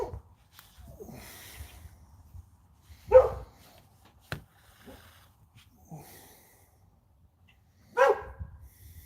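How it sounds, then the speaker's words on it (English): A pet dog barks and snorts indoors in a garage workshop, a few scattered short barks with quiet breathing between them, fairly close. "There's my dog."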